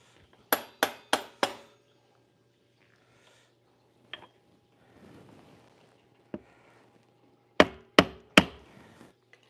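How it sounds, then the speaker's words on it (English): Hammer striking bike parts during a trail bike build, a quick burst of four sharp metallic blows, a few lone knocks and faint rustling, then another rapid set of three ringing strikes, close and with no talking. "I hate having to use a hammer on a bike."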